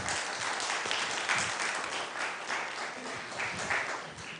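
An audience applauds warmly to welcome two teachers onto a stage, a dense, steady wash of clapping that fills the whole stretch without pause.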